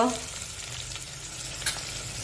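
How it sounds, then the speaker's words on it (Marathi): Spices including turmeric and asafoetida being stirred in a hot pan with tomatoes, a steady frying sizzle with soft scraping, one brief louder scrape near the end, no voices. "हे आता मस्त आपण असं हलवून घेतलेलं आहे"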